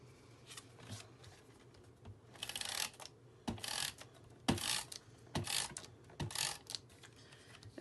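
A Cricut cutting machine works on foil, giving a quiet mechanical run of whirring carriage movements and rhythmic ratcheting clicks and thumps in uneven bursts, close and fairly faint.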